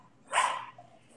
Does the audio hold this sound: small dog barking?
yes